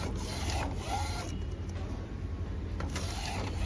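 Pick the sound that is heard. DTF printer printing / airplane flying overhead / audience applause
DTF printer printing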